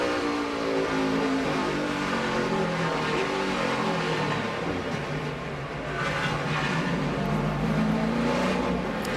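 Onboard engine of a NASCAR Sprint Cup car at Dover, a continuous loud drone that shifts pitch as the car slows and accelerates, with no talk over it.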